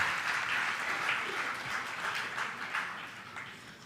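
Audience applause at a Jain monk's sermon, steady dense clapping from a crowd filling the stretch at moderate level, without speech.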